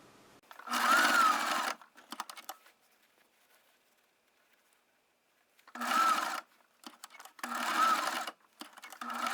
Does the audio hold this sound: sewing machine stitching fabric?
yes